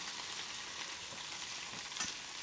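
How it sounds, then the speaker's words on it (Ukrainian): Chicken pieces frying in a pan, a steady close sizzle with occasional soft scrapes as they are stirred, no voices. "І ось тут ми починаємо всі ці шматочки гарненько смажити, рухати зі всіх боків"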